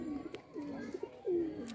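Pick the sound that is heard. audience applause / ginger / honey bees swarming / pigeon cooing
pigeon cooing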